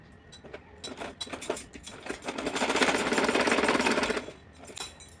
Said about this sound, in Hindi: तो चलिए सिलाई कर रही हूँ